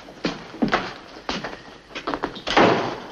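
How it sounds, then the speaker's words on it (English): Several thuds and knocks from a door being handled and shut indoors, spaced irregularly, ending in a louder slam. "Shut the door."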